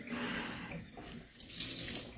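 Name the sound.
water running to wet a Norwex cleaning cloth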